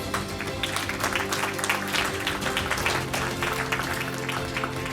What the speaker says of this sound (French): On les applaudit encore, merci.